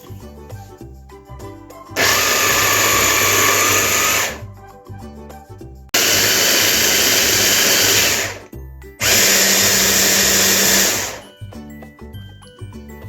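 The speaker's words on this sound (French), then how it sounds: "Donc là, en mixeur, on va la rendre en purée." A blender purees beetroot, whirring loudly in three separate bursts, each lasting a couple of seconds, with quieter kitchen background between runs.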